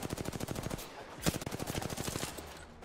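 Rapid automatic gunfire in a shooter video game, dense fast-repeating shots in sustained bursts with one louder crack midway, close and loud throughout.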